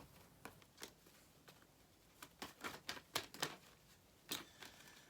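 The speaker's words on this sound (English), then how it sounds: "these cards are not shuffling for me today" Tarot cards being shuffled by hand during a general reading, a quiet series of soft riffles and slaps coming in uneven bursts, with a cluster in the middle and one sharper flurry near the end.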